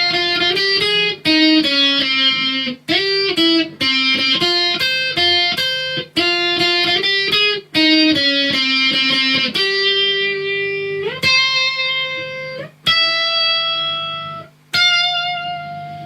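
Lead electric guitar plays a solo, a loud stream of clear bent and sustained single notes, starting as a busy phrase and thinning into long ringing held notes separated by brief gaps.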